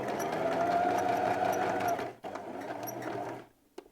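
Domestic sewing machine running a pyjama seam, a close continuous whirring stitch for about two seconds, a brief pause, then more stitching before it stops.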